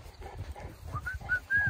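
Seven-week-old Boerboel and Kangal mix puppies give faint, brief high whines and whimpers, a few rising squeaks in quick succession amid soft rustling.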